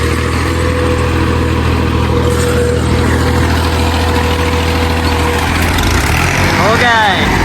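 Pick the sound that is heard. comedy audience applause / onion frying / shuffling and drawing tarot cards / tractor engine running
tractor engine running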